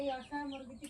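A three-day-old chick too weak to stand or hold its head up gives a run of thin, wavering peeping calls, close and fairly clear, with a brief sharper cheep near the end.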